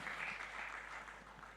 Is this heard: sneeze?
no